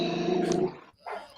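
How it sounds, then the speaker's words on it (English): A dog growls close by in a low, sustained rumble, breaking off briefly before a shorter snarl, heard alone without talk. "Fucking dog."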